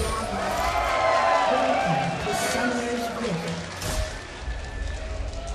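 A live esports audience at an NA Regionals match between Curse and TSM Evo cheers and roars for TSM Evo, a loud sustained crowd swell that fades somewhat, with an announcer's voice talking over it.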